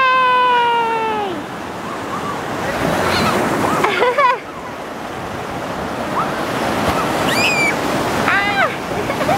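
Surf washing in at a beach, a steady broadband roar with wind buffeting the microphone, while children shout and talk close by, with one high-pitched squeal.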